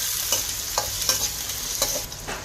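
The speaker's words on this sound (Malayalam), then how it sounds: "ഇപ്പോൾ നമുക്ക് ഒരു ഓണിയൻ കട്ട് ചെയ്ത് ഇട്ട് കൊടുക്കാം. കുറച്ച് സോട്ട് ചെയ്ത് കൊടുക്കാം." Chopped onion sautés in a pan for vegetable fried rice, a steady sizzle broken by several sharp scrapes and clicks from stirring, with no voices.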